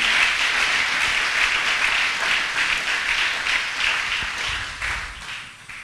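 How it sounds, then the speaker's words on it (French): A church congregation applauding loudly, a dense, steady wash of clapping that holds throughout and tapers slightly near the end. "Tobetele maboko makasi."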